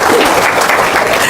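A short burst of audience applause, dense and loud, filling the brief moment without speech.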